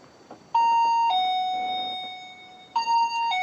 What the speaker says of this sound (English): if something crosses the beam that we can't see, it will create an audio alarm like this.